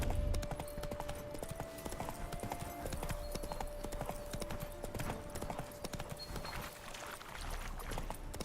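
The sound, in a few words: horse hooves in a video game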